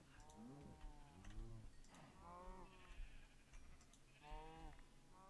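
Cows in the Minecraft DinoCraft modpack give repeated lowing moos, several overlapping calls in quick succession as the player slaughters them, fairly close with no talking.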